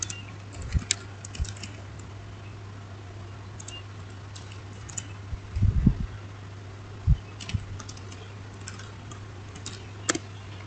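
Someone types an IP address on a computer keyboard, producing scattered, quiet, close clicks in short bursts over a steady low fan hum.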